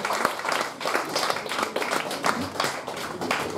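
Audience applause fills the hall at a Russian song or poetry evening, steady dense clapping throughout with no voices over it.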